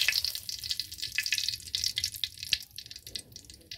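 Hot oil sizzles steadily in a pan as a bay leaf fries, a dense, bright crackle that stays loud and continuous throughout.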